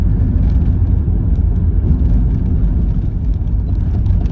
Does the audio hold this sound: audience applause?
no